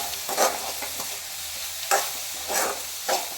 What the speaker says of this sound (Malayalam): എല്ലാം കൂടെ നന്നായിട്ടൊന്ന് യോജിപ്പിച്ചു കൊടുക്കാം.